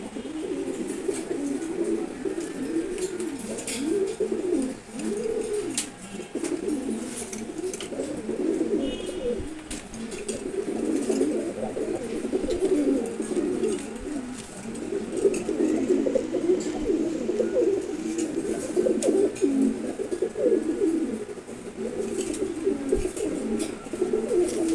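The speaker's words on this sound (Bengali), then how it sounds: "মাশাআল্লাহ, সব কবুতরগুলো খুব সুন্দর" Pigeons in a loft coo continuously in overlapping, rolling phrases, fairly close and steady throughout, with faint chirps above and no talking.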